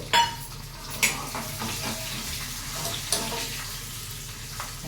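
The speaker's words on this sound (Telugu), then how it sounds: "పచ్చి శనగపప్పును జీడిపప్పు వేసుకుంటున్నాను పచ్చిమిరపకాయలు వేసుకుంటున్నాను" Chana dal, cashews and green chilies frying in a pan, a steady sizzle broken by several sharp metallic spoon scrapes and clinks against the pan, close and clear with no talk.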